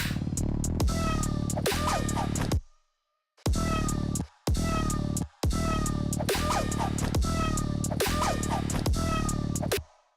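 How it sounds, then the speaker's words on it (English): Recorded cat meows mixed into a song, repeated in short bursts over a dense, steady backing track that cuts out briefly twice. "Let's have a listen to the meows, make sure everything's okay."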